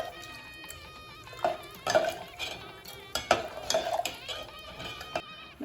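Soaked moong dal and rice stirred together in a pot, with a spoon scraping and clinking against the metal in irregular knocks, close by, and faint talk under it.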